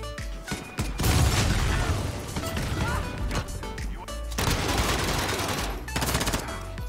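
Uzi submachine gun firing in Modern Warfare, rapid bursts of automatic gunfire in two main volleys with sharp cracks and impacts, loud and close.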